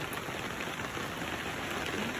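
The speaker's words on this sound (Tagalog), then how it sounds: "Ayaw tumigil ng ulan, eh. Hanggang ngayon umuulan, oh." Steady rain pours down, a dense continuous patter of drops hitting surfaces, with no voices.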